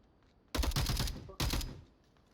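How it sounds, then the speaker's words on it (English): Two loud bursts of rapid gunfire in a competitive match of the VR shooter Onward, each a dense rattling volley lasting under a second, separated by a short gap, with no voices. "Gunshots come out. More gunshots."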